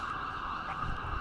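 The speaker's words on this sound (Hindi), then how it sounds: "इस वक्त एम्बुलेंसेस की सायरन हर तरफ से बज रही है।" Ambulance siren wailing steadily outdoors near the scene of an attack in Israel, a continuous distant tone over low background rumble, with no one talking.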